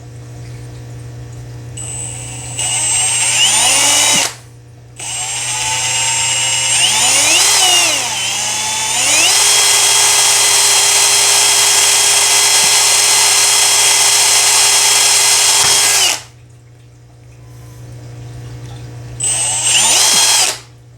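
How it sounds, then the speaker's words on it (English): A power drill whirs in several bursts while drilling into a round object, spinning up and down in pitch, then runs steadily for a long stretch before stopping; a short final burst follows. "Believe it or not, it's hard to drill on a round thing."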